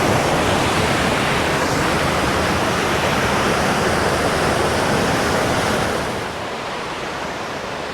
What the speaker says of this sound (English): Lovely waterfall coming into view just off the path. Quite the torrent.